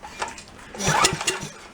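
A junk go-kart's small engine being pull-started, giving a few short sputtering bursts and coughs that build briefly and then fade, close by with no talk.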